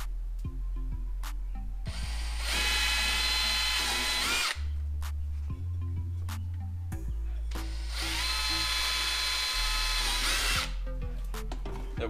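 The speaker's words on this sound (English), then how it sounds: "where you can drill your holes" A power drill whirs loudly in two long bursts, drilling holes in pipe for a kayak trailer, pitch rising as it bites in, with a pause and clicking between them.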